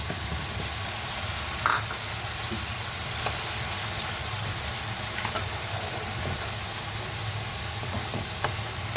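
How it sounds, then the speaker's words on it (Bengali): Masala paste fries with lightly fried onions in a pan for prawn-stuffed potol dorma, a low, steady sizzle with occasional soft clicks of stirring throughout. "পেঁয়াজটা হালকা ভাজা হয়েছে এর মধ্যে অ্যাড করে দিলাম মশলাটা"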